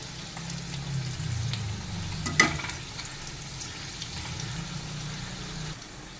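Flipped spring rolls keep frying in refined oil, a continuous near sizzle with a low bubbling bed and one brief louder splash-like crackle midway, no talking.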